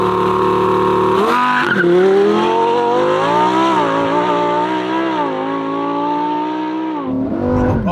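A Lamborghini Huracan STO launches under launch control, its engine roaring loudly and climbing in pitch through quick automatic gear shifts, with tyre noise and no talking.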